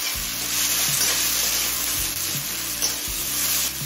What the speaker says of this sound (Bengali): এবার এই টমেটো নরম হয়ে আসা পর্যন্ত ভেজে নেব